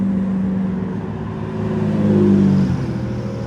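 A Maserati MC12 supercar rolls past during Monterey Car Week, its mid-pitched engine humming steadily, swelling briefly as it nears, then easing off as it passes by.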